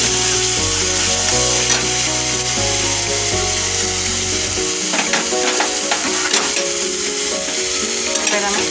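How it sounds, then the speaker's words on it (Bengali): Spice masala with curdled yogurt being sautéed in a pan, giving a continuous loud sizzle with rubbing, scraping stirs near at hand; sustained musical tones play under the first half, then fade, leaving the frying and stirring alone. "আরও 2-3 মিনিট কষিয়ে নেব। ফাটানো দইটা আমি দিয়ে দিয়েছি।"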